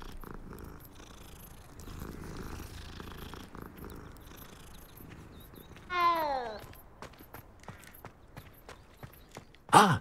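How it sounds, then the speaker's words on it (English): Cat purring as it is petted in the video game Hogwarts Legacy, a soft continuous rumble joined by a rising meow-like call midway and another short cry at the end. "I'm gonna pet all the cats."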